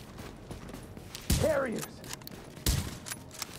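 Gunfire in the video game Hunter's Faith, two sharp loud shot bursts about a second apart over low ambience, with a character voice shouting between them.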